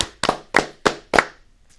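Hands clap five times, sharp and close, in an even rhythm. No one speaks.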